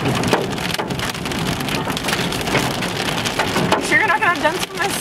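Hard hail drums steadily on a car during a Mississippi Delta storm chase, a close, loud rattle of countless impacts, while someone briefly speaks underneath.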